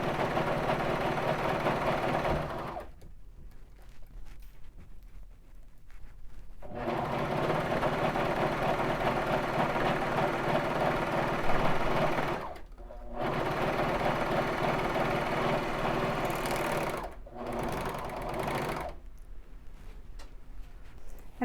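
A Baby Lock Vibrant machine stitches along the edge of knit fabric for a crewneck sweatshirt, running in long steady bursts with short pauses between, close and fairly loud, with no talking.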